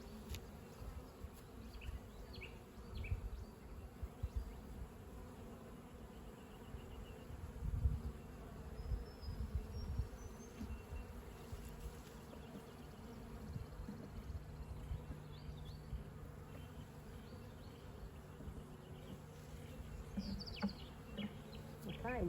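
Honeybees buzz around an open hive during a spring inspection, a steady close droning swarm that rises and falls in loudness throughout, with occasional faint handling knocks and a distant bird chirp.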